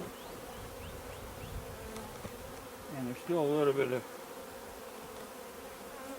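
Honey bees hum in a steady low buzz around a hive throughout, while someone speaks briefly midway over the droning.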